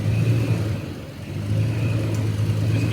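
A vehicle engine revs under steady throttle on an off-road outing, a mid-pitched drone that dips briefly then climbs back and holds, close and fairly loud.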